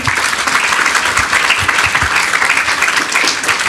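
A crowd at a live horse-charity Q&A at Kingston Park gives a big round of applause, a loud, dense, continuous wash of many hands clapping throughout, close and full, with no voices over it.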